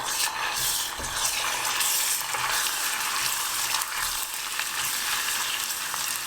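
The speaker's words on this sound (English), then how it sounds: "I'm going to put in my fresh garlic and the ginger" Fresh garlic and ginger fry in hot oil, a dense, continuous sizzle and crackle that stays loud and even throughout with faint occasional stirring knocks.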